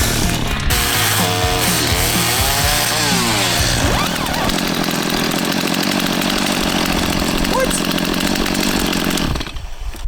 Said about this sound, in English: we are now the proud owners of a Steel MS 250 chainsaw